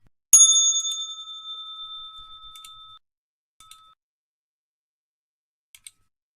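A trading-session bell rings out sharply, a single loud strike with a long ringing tone that decays over a few seconds, followed by a few faint, brief metallic taps in otherwise quiet surroundings.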